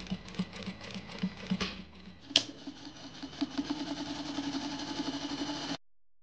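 A sewing machine stitches satin for a bow, running in a quick, even patter with a short pause and a sharp knock partway through, then stopping abruptly.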